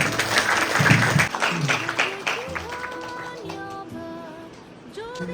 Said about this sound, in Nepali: ताली बजाइदिनु